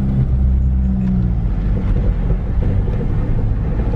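A manual Danger Ranger car drives across a parking lot, giving a steady, loud low engine rumble with wind buffeting throughout and no talk.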